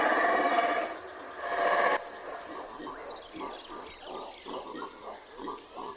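A family of howler monkeys in the Central American forest roars together: a loud, rough swell opens, then gives way to a run of rhythmic, pulsing grunts and growls.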